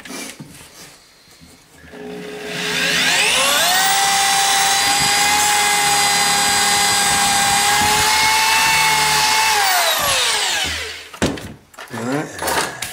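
A power drill drives a screw into kitchen cabinets, close and loud, whining up to a high steady pitch for about seven seconds before winding down, followed by a few short bursts.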